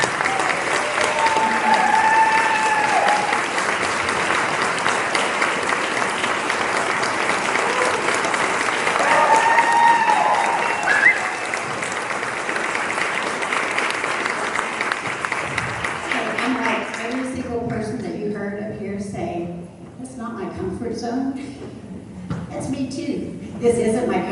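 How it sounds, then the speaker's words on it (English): A large audience at a live seminar event in Tulsa claps in a loud, sustained round of applause that fades out, followed by someone speaking. "Big round of applause."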